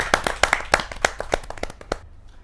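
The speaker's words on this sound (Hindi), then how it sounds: "जोरदार तालियों के साथ रसिक गुप्ता जी का।" A small audience at a Hindi poetry gathering claps to welcome a poet, with a couple of dozen sharp, separate hand claps in an uneven rhythm that stop abruptly and leave near-silence.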